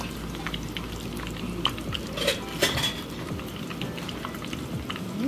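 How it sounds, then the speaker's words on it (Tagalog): Food fries in hot cooking oil, spattering and popping with scattered sharp crackles and a few louder bursts over a soft continuous sizzle, heard close up. "Hindi ko lang siya tatagalan dito sa mantika kasi sumasabog to eh."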